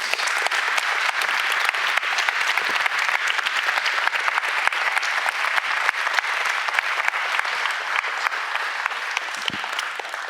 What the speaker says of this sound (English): please a round of applause for our candidates